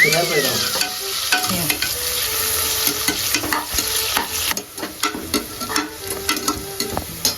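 Onions sizzle and crackle in hot oil for chicken biryani, with stirring scrapes and clinks from a utensil breaking through the steady close frying hiss.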